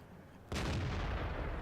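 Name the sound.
tank gun shot firing, from video game World of Tanks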